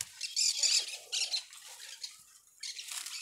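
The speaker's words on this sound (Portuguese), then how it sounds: "tá tendo muito, papo, muito periquito aqui, muito quem-quem aqui" Parakeets in a cassava field give shrill, scratchy squawks in repeated bursts, fairly close and loud, with brief pauses between calls and no talking.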